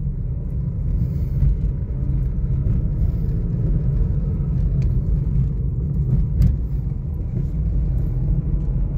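A vehicle cruises steadily on a highway heading toward Manggahan, its engine and road noise forming a continuous loud low rumble throughout, with no talking.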